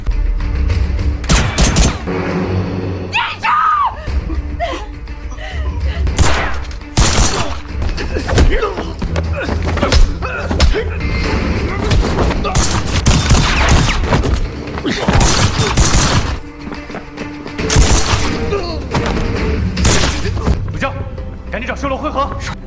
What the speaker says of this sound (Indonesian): terpaksa kembali baku tembak dengan para musuh